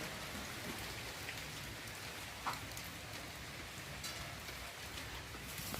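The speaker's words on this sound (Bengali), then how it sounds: "বৃষ্টি পড়ছে।" Rain falling steadily outdoors near a home kitchen, a soft constant patter of drops on surfaces with a few sharper taps, fairly quiet and without talk.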